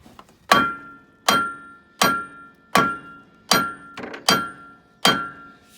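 A new wheel stud is hammered into the aluminum front hub housing of a 2007 Freightliner Columbia truck, giving seven evenly spaced, moderate metallic thunks, close and alone.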